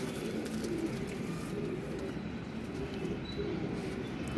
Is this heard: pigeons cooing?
yes